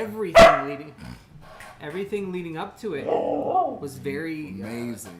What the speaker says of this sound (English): Sorry about the barking, y'all.